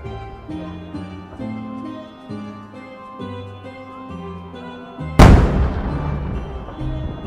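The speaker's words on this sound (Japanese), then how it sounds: "曲名のぼり曲付き三重芯菊咲紅点滅、 高度な技術を必要とする三重の芯を持つ菊型花火" A triple-core chrysanthemum firework with red flashing bursts at a festival at Twin Ring Motegi, one loud sharp boom with a decaying roll after music playing before it.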